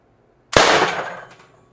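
An Umarex TR50 air rifle fires a single 4-gram Vindicator round: one sharp, loud crack after silence, followed by a short decaying ring.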